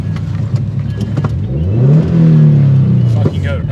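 A turbocharged Subaru FRS running on E85 fuel revs up and accelerates hard, its engine note climbing steeply to a loud, sustained roar before dropping off, with people talking in the background.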